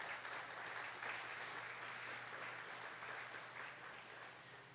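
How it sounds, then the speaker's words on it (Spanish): A church congregation gives a strong round of applause to the Lord Jesus during a Spanish-language sermon, sustained, moderately distant clapping with a low steady hum underneath, easing off slightly toward the end. "Dele ese fuerte aplauso al Señor Jesús"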